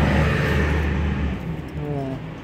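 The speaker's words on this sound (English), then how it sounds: "Sorry for the noise, it's just cars passing by." A car passes along a roadside with a broad, steady rumble that gradually fades, followed by a fainter engine note from more traffic, loud and close to the microphone.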